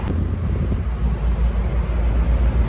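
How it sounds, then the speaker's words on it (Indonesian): Wind blowing outdoors on a clear, sunny morning, a steady low rumble buffeting the microphone without a break and with no voices. "Sini banyak berangin."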